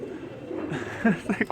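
A pigeon coos in a few short, low throaty pulses near the end, close and moderately loud over a soft background murmur.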